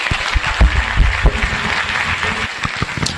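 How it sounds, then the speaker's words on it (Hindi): An audience applauds to welcome Pratima onto the stage at a business talk, a dense burst of many hands clapping steadily for several seconds, fairly loud and close, with no voices over it. "अभी आप लोग थोड़ा क्लैप करिए और प्रतिमा जी को यहां बुलाइए एक बढ़िया ताली से"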